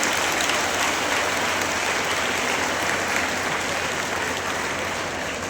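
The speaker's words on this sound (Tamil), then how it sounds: "அவங்கள தவிர்த்து மற்றவங்களும் ஒரு பெரிய கைத்தட்டல் கொடுக்கல, மிகப்பெரிய கைத்தட்டல்" A large audience at a Tamil engineering college festival gives a long, loud, dense round of applause, steady and sustained throughout with no talking over it.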